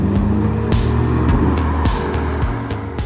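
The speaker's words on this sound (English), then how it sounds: "It's a bit quicker, the engine sounds more raspy." An upgraded Porsche Boxster fitted with 911 suspension drives under steady, raspy engine drone, with a few sharp transient pops and bursts over the continuous hum.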